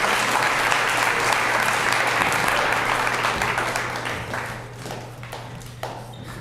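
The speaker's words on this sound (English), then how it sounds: "Give him a round of applause, please." An audience applauds at a school Celebration of Learning event in spring 2021, with dense, steady clapping from a full room that holds level for several seconds, then thins and fades toward the end.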